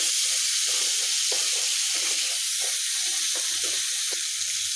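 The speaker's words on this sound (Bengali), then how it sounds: "তারপরে ভালোভাবে নেড়ে চেড়ে ভেজে নিব।" Crab frying in a hot pan with a loud, dense hissing sizzle, broken by a rhythmic series of scraping stirs close up, with no talk.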